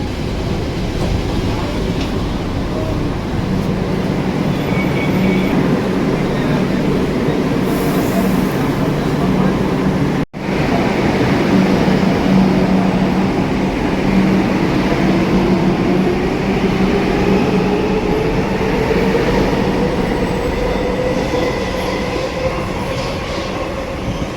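A Kolkata Metro train running underground toward Girish Park station, heard from inside the car: a loud steady rumble and roar with rhythmic wheel clatter, a brief cut partway through, then a rising whine as it moves on.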